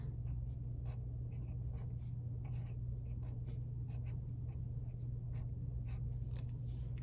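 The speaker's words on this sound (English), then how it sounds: "I'm gonna write it right on the building" Pen or marker scratching on paper in quick, irregular strokes, writing a word onto a drawn building, steady and fairly quiet over a constant low hum, no talk.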